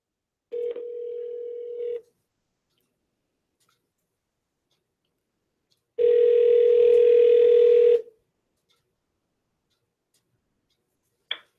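Two steady telephone tones sound clearly over a phone line during a live call-in show, the first about one and a half seconds long and the second about two seconds, separated by silence, with a brief click at the end.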